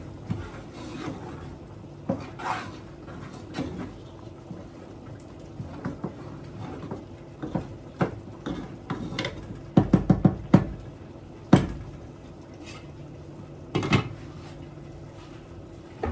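A spoon knocks and scrapes in a pot of egusi and ogbono soup, giving irregular clunks and taps with a cluster of quicker knocks midway, close and otherwise quiet.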